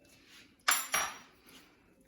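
A spoon clinks twice against a bowl of vegan ranch dressing, two close, fairly crisp knocks in a quiet kitchen, followed by a faint softer scrape.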